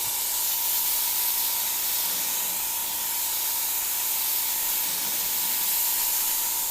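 A steady, continuous spray hiss from an airbrush misting candy paint, close and even in loudness throughout, with no talking.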